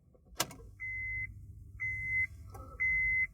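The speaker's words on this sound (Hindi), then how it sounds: "थोड़ी देर बीप होने के बाद मेरी सीट बेल्ट की चीज़ बंद हो जाती है" After a click, a Honda Civic sounds its seat belt warning as three evenly spaced, clear electronic beeps inside a quiet cabin.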